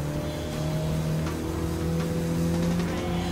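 A Mini Cooper S engine racing in Gran Turismo Sport, a steady droning hum of the motor holding near-constant pitch throughout, fairly loud and unbroken, with no talking.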